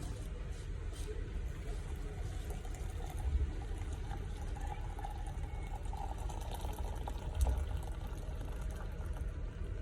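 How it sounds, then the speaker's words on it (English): Hot water pours from a kettle for coffee, a soft, continuous liquid trickle set against a steady background hum, with no speech throughout. "And then I'm gonna add hot water from the kettle, as you can see."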